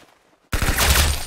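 Sudden burst of rapid automatic gunfire in the Roblox shooter game Arsenal, erupting loud and close after half a second of near silence and continuing as a dense fusillade.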